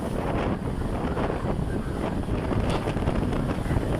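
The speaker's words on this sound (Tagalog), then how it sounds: "talagang mapapagalaw ka dahil sa sobrang lakas po ng hangin" Strong typhoon wind during Bagyong Crising at Baseco Beach in Tondo, Manila, roaring steadily into the microphone with constant buffeting and gusts, and faint surf and waves beneath.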